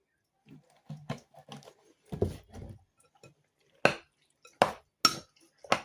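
A spoon stirring eggplant caviar with salt and oil in a bowl, soft scraping and wet squelches followed by a few louder clinks against the dish, close up with no talk.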